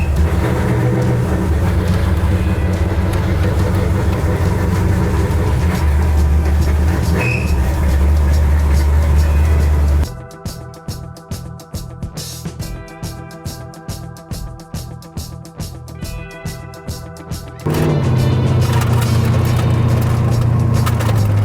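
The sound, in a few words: car driving after MSD Pro Billet distributor install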